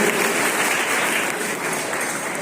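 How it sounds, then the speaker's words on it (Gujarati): An outdoor audience applauds medal winners at a village athletics competition, dense, steady clapping from many hands, loud and continuous throughout, with no voices standing out. "આપણે એમને તાળીથી વધાવી દઈશું."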